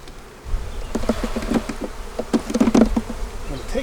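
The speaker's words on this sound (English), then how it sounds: "with its nurse bees." Honey bees buzzing on a hive frame of nurse bees in a neglected bee yard, a close, steady droning hum with louder swells of wingbeat buzz throughout, no voices.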